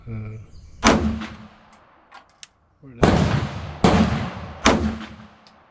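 A Bulgarian Makarov pistol, just repaired, fires from a 10-round magazine outdoors in loud, close reports spaced about a second apart, each with a sharp crack and brief echoing tail, with talk faintly at the start.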